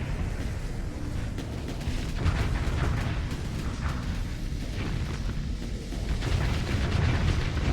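Torpedo explosions from space combat in the game Starsector, heard as a dense, continuous rumble of low booms and crackling impacts with no clear gaps between them, moderately loud throughout and building slightly toward the end.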